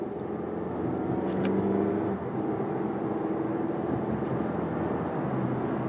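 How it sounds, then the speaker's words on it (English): Engine of a 2016 Mazda 6 Touring with a 6-speed automatic hums steadily from inside the cabin, a brief dip in drone marking an upshift midway before the broad road and engine rumble resumes. "All right, a little bit of a delay on the upshift"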